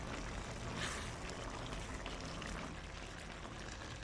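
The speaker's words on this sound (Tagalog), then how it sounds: "Lagyan natin ng konting tubig." A little water is poured into a pan of beef with bell pepper and tomatoes, producing a soft, steady wash of splashing and sizzling, fairly quiet and without talk.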